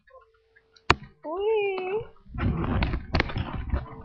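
A white German Shepherd puppy gives a single thin, rising whimper after a sharp click, followed by rustling handling noise and muffled voices nearby.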